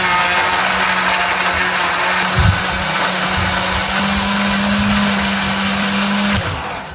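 A kitchen blender grinds green chili, shallots, candlenut and pepper with a little water into spice paste, a steady loud whirring drone that holds for several seconds before winding down, with no talk.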